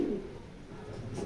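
Racing pigeons coo low and soft in a loft, a faint rolling murmur with a brief rustle near the end and no speech.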